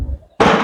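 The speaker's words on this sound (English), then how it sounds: "It would help to close the bolt" The bolt of a Beretta Olympia rifle snapping closed: a single sharp, close metallic clack after a moment of quiet.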